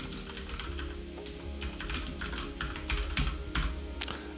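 A computer keyboard being typed on to enter a dashboard title in data-analysis software, with quick irregular bursts of close, clear key clicks and no talking.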